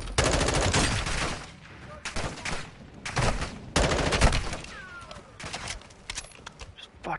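Shotgun and other gunfire in Call of Duty Modern Warfare 2, several loud bursts of rapid shots separated by short lulls, with scattered game sounds in between.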